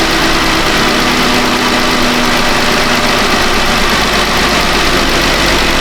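Jeep Wrangler engine idling steadily with a failed injector, a continuous close rumble with a low, slightly uneven hum throughout and no talk.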